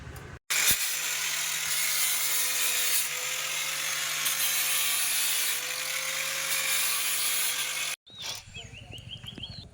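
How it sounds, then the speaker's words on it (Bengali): A clay pot is scrubbed hard by hand with cow dung and mud, making a sustained, even rasping scrub for several seconds that stops abruptly, followed by faint handling noises. "মা কিন্তু একেবারে গোবর মাটি দিয়ে দিচ্ছে জোর করে ঘষে দাও সব একদম গোবর দিয়ে পরিষ্কার করে"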